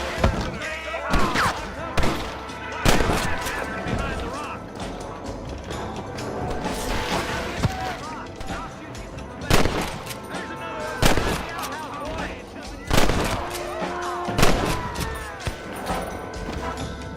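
Gunfight in Red Dead Redemption, scattered loud gunshots cracking out singly and in quick pairs amid a rattling exchange, with a voice shouting between the shots.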